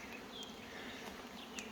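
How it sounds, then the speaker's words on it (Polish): A steady, faint buzz of honeybees flying around hives at a forest apiary hums throughout, with a couple of brief louder passes. "Jak widać, oblot pszczół."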